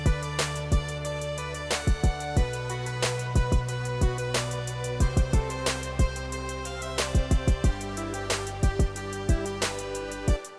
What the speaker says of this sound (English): And then you have a drop that sounds like this.